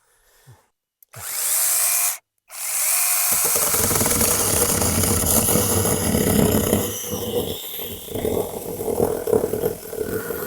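A small cordless mini chainsaw starts in short bursts, then runs continuously under load with a rough, buzzing whine as it bites into a thick wooden beam, loud and close.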